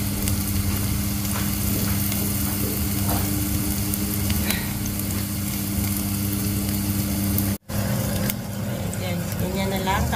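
Onions fry in a pan with a continuous close, loud sizzle and occasional stirring scrapes, while someone talks over it in Filipino; a brief dropout interrupts the sound partway through.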